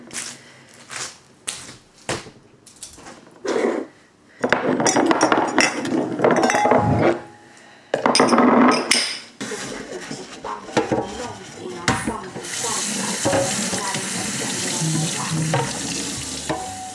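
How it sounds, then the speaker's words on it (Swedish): Dishes clink and water runs in bursts at a home kitchen sink, with scraping and clattering of plates, then a sustained stream of tap water near the end. "Efter att jag har tagit disken."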